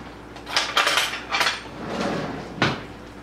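A fork scrapes and clinks against a dish while mixing a cracked egg for a keto recipe, in several short bursts of scraping close by, ending with a sharper clack.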